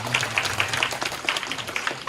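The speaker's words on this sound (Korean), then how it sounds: "환영의 박수 부탁드립니다" Church congregation giving welcoming applause to a first-time attendee during a Sunday youth service, soft, fairly distant clapping with some individual claps standing out.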